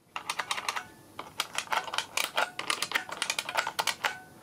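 Clicky buckling-spring keystrokes from an IBM Model M keyboard, a quick uneven burst of typing close up with no talking.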